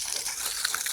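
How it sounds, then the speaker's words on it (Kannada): Water runs in a steady, close gush with a bright splashing hiss, flowing continuously without pause. "ನೀರು ಆನ್ ಮಾಡೀನಿ"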